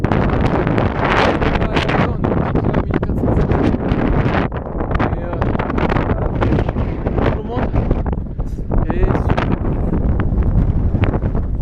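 Strong wind roaring and buffeting the microphone continuously, loud and close, with constant rumbling gusts throughout.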